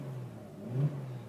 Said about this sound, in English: You get this lovely 2-litre V6.